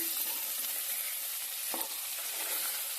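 Eggplant (brinjal) fries in a pan with a constant loud, bright sizzle, and a utensil stirring through it makes a scrape or two.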